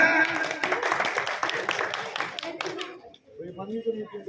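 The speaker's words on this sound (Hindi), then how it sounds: "जोरदार तालियां।" Crowd applause with quick, dense clapping for about three seconds, then it fades out as a voice begins speaking.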